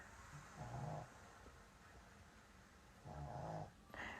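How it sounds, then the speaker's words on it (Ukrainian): A dog snoring indoors, close and soft, in two slow drawn-out breaths with a quiet pause between them and low room hum throughout. "Вінтер уже хропе"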